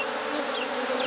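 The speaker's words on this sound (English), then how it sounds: "There's that queenless sound, they're upset because they're separated from that other cage." Queenless honeybees held in a cage apart from another cage give off a steady, agitated buzzing hum, close and continuous throughout, with no voices.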